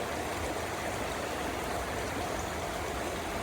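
Flowing water of the Credit River on a sunny autumn day, a steady, dense rushing wash running unbroken and fairly close throughout, with no voices.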